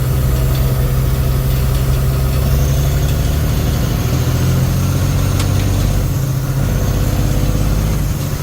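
A 1999 Freightliner truck engine idles with one dead cylinder. A loud, steady low rumble runs throughout, up close, with no talking.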